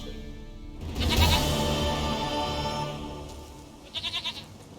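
Goat bleats in The Witcher 3, a short quavering series of bleats rising out of a game ambience, with a fainter trembling bleat near the end.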